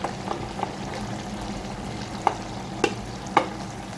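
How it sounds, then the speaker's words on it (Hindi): Masala for chicken kofta fries in a pan with a continuous, moderate sizzle, broken by a few sharp clinks of a utensil against the pan near the end. "अब हम मसाले को तकरीबन 8 से 10 मिनट के लिए अच्छी तरह से भून लेंगे"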